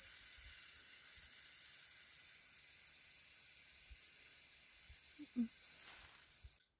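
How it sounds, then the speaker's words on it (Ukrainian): A Shpyk 1M gas pepper spray canister sprays in one continuous, steady hiss lasting about six seconds before cutting off sharply. "Розпилення газового балончику шип 1М."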